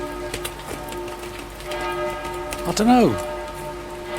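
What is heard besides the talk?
rain falling in Dieppe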